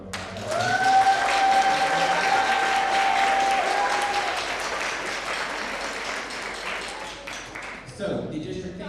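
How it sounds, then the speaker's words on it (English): An audience at a percussion concert breaks into loud, sustained applause that gradually fades, with a feedback-like tone ringing briefly and a voice speaking near the end. "Give Devin a couple of round of applause"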